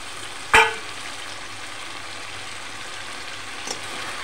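Fish pieces drop into hot oil with fried spice paste for a yogurt fish curry: a sharp hit as they go in, then a steady, soft sizzle and a faint later clink.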